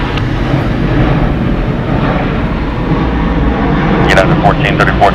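Airliner taking off from runway 26 left at Atlanta Hartsfield-Jackson, a loud continuous low engine roar close by, with brief higher whining tones near the end.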